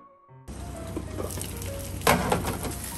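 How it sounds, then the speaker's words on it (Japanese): Flounder frying in olive oil in a heated frying pan, a steady close sizzle that starts abruptly and continues throughout, swelling louder partway through, with no talking. "フライパンにオリーブオイル、フライパンが温まったらカレーを焼きます。"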